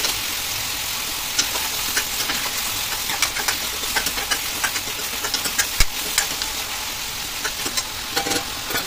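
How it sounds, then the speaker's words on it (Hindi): Chicken fries in a hot kadai with a loud, steady sizzle, broken by irregular stirring scrapes and clinks, and no one speaks. "अब हम कढ़ाई में डाल देंगे चिकन। चिकन को एक दो मिनट फ्राई करेंगे अच्छे से"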